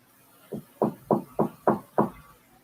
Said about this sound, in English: The knocking sounds polite yet urgent, definitely human.